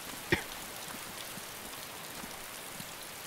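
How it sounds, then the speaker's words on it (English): Rain falls in the DayZ video game as a steady, even hiss of drops throughout, with one brief sharp tap near the start and a few faint patters. "does the raindrops fall on you while you're on the ground here?"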